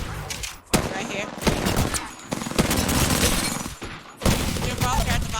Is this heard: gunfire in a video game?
yes